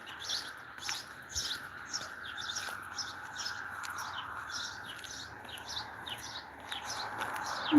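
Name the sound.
birds singing outdoors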